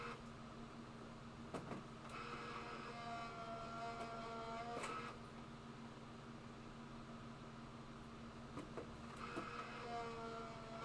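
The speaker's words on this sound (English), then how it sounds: "I am going to put this through my die cutting machine." A die cutting machine hums steadily at a very low level, with a constant motor tone, faint rising whirring passes and a few soft clicks and clunks. No one speaks.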